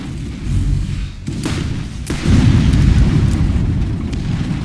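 Grenade blasts in the shooter game Borderlands: loud, continuous booming rumble with a couple of sharp cracking bursts, dense and close throughout.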